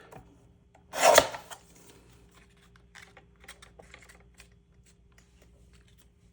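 A paper card trimmed for a handmade bleacher card: one brief, close rasping cut, then soft scattered scraping and tapping of paper handling on a quiet table.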